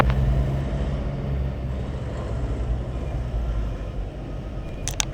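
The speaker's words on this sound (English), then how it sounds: "Well, the truck sounds awesome." A Caterpillar-powered truck with 8-inch exhaust stacks drones steadily on the road, a deep continuous engine rumble heard from inside the cab with road noise and no talk.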